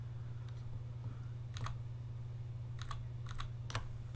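Soft keystrokes on a computer keyboard come in short scattered bursts over a steady low electrical hum, with no speech.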